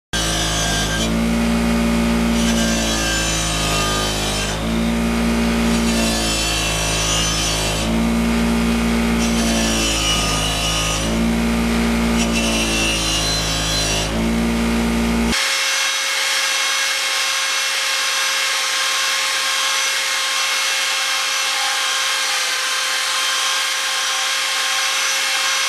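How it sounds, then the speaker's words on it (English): A 2025-restored Yamaha FZR motorcycle wheel pressed against a big spinning wire brush to strip its inner rim, a loud rough grinding in repeated bursts, then a steady high whine of the brush running on alone. "I want to clean this inner part of the wheel over on the big wire brush"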